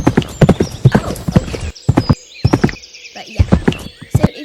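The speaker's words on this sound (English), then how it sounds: "you're going to be riding Benjamin here at a lesson pony" A lesson pony's hooves clip-clop in a quick, close, loud rhythm on a riding-school floor, with a whinny rising briefly in the middle.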